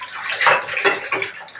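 Cold tap water runs and splashes into a basin during washing, a continuous hissing flow with uneven surges, close by and moderately loud, with no voices.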